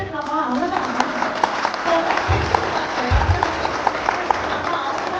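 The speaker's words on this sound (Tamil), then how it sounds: "சத்தமா கை தட்டுங்க" An audience at a church vacation Bible school event in Kuwait claps in a steady, moderately loud patter, with voices talking over the applause.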